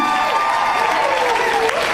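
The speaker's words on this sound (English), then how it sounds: "Round of applause." A crowd claps loudly and continuously, a dense patter of applause with some voices mixed in.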